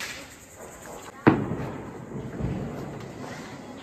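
A Diwali firecracker goes off with one sharp, loud bang, followed by a rumbling tail and faint crackling at a distance, while people talk in the background.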